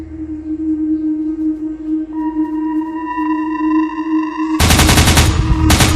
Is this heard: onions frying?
no